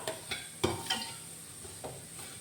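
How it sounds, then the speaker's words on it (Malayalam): Spices frying slowly in a pan until golden, faint sizzling with a few soft stirring scrapes and light clinks, quiet and close. "ഇങ്ങനെ ക്ഷമയോടെ പതുക്കനെ കഴിയാണ്ട് നല്ല ഗോൾഡ് കളറിൽ വറുക്കണം"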